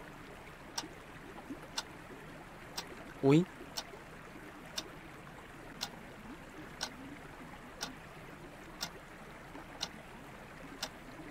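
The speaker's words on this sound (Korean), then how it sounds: "물 흐르는 소리?" Steady wash of flowing water inside a horror video game, heard as a continuous hiss with faint regular ticks throughout and a short startled voice partway through.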